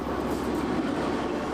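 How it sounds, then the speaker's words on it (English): A Silk Road Express passenger train runs steadily through Uzbekistan toward Nukus, giving a continuous close rumble of rolling wagons with a dense low roar and no pauses or voices. "The Silk Road Express has almost reached its destination."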